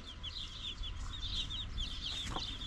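Hen clucking among her chicks in a village yard, with a string of high, quick peeping chirps from the chicks over soft, low clucks, moderately close and fairly quiet, no talking.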